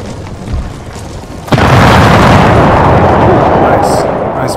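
Musket volley in Total War: Empire, a sudden loud crackling blast of massed gunfire that rolls on as a sustained dense roar for several seconds, with faint background game sounds before it.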